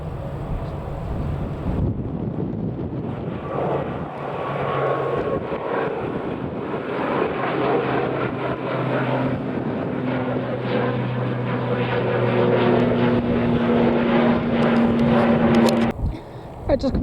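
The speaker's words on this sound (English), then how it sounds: "This one's a Loganair ATR 72-600 going to Southampton." A Loganair ATR 72-600 turboprop at Manchester Airport gives a sustained engine roar with a rising tonal whine, mixed with wind noise across the microphone, fairly loud, while a person talks over it.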